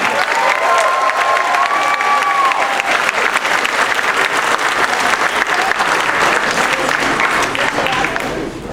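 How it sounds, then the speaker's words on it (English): Sustained applause from a large audience for a beginning band, dense steady clapping with a few cheers, fading slightly at the end. "give it one more round of applause for our beginning band."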